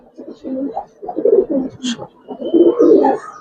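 Giribaz pigeons coo up close in a series of deep, throaty rolling phrases, several overlapping bursts repeating over a few seconds with a brief higher chirp between them.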